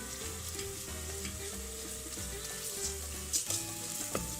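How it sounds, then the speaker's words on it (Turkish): Tomato paste sizzling and frying in a pot for soup, stirred with a utensil, a steady close crackle with scraping stir strokes and a few sharper pops, no talk. "iyice kavrulması için karıştırıyoruz. Salçayı kavurmak çok önemli."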